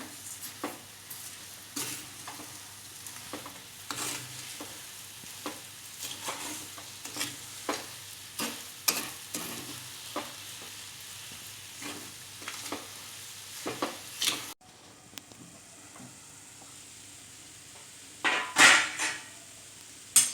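Sugar gets stirred into sheera in a pan, a quiet scraping and tapping of a spoon against metal repeating in irregular strokes over a faint sizzle, close up with no talking.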